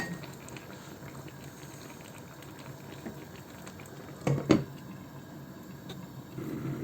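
Fish curry simmers in a covered pot, giving a faint, continuous low bubbling and hiss, with a brief clatter partway through.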